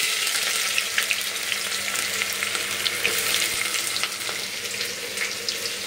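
Chopped onion hits hot oil with whole spices for a chicken dish, giving a loud, even, close-up sizzle that crackles steadily throughout without talk.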